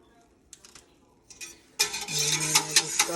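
Yogurt starter is stirred into warm goat milk, first with a few light taps and then steady scraping and clinking of a utensil against the pot, close up and without speech.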